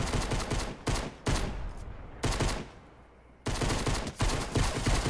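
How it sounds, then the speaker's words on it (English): Rapid gunfire crackles in a Fortnite gunfight, coming in loud, dense bursts broken by short gaps. There is a longer quieter lull before the shooting resumes, heavy and continuous, with no voices. "Already a gunfight happening."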